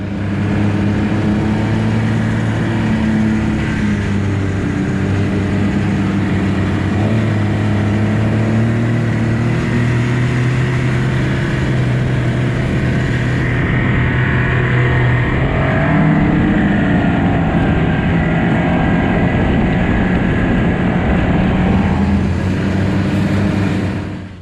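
Snowmobile riding across a frozen lake, its engine loud and close with a sustained droning whine that rises and shifts pitch as the sled speeds up.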